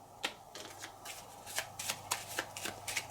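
Cards from the board game Bangkok being shuffled by hand, a run of quick papery riffles and flutters repeating in bursts, close and fairly soft, with no talking.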